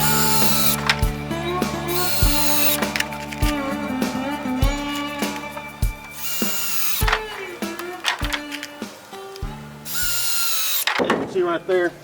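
A power drill driving screws into a wooden runner for a wild boar trap, with repeated loud bursts of motor whine rising in pitch, separated by short pauses, close by, with brief talk near the end.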